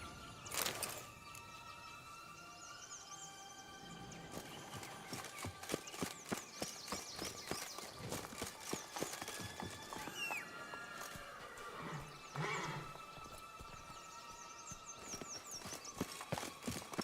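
Geralt's horse Roach in The Witcher 3: Blood and Wine clip-clops steadily along with continuous hoofbeats, breaking into whinnying neighs partway through, set over quiet game ambience.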